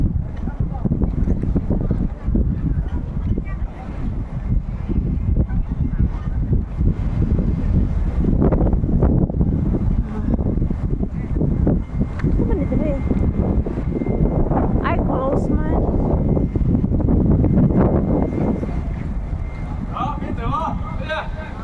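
Steady wind roars and buffets the microphone throughout at Wan Chai Harbour in Hong Kong, with voices talking underneath.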